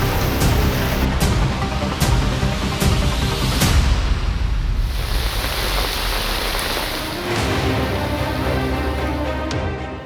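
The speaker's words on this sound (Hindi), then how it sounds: "जब बादल दहाड़ मारकर बरसते हैं तो तस्वीर कुछ ऐसी ही होती है" Torrential monsoon rain pours down in Jalaun, Uttar Pradesh, amid flooding, a loud, dense continuous roar of water with scattered sharp splashes and impacts, steady throughout with no voices.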